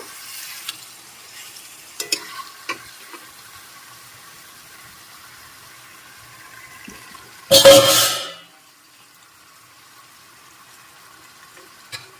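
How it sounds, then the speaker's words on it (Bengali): Potatoes go into Bengali-style mutton kosha frying on a low flame, making one loud burst of sizzling and stirring that lasts under a second and then dies away, amid otherwise quiet faint kitchen clinks. "এবার আমি এর মধ্যে আলু মিশিয়ে দেব"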